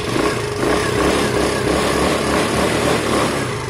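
A Sinnis Harrier 125cc motorcycle engine runs steadily throughout, a continuous droning buzz at close range with no talking over it.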